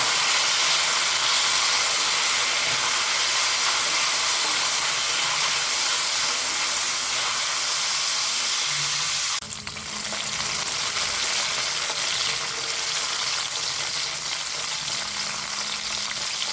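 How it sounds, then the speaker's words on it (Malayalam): About 100 grams of black raisins fry in hot ghee, a steady loud sizzle running throughout with a brief dip near the middle as they are stirred. "നെയ്യ് ചൂടായാലേ അതിലേക്ക് കറുത്ത ഉണക്കമുണ്ട് ഇടാം ഒരു നൂറ് ഗ്രാമോളം"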